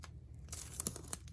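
Packing tape tears off a cardboard unboxing package in a few short, quiet ripping and crinkling bursts, close by.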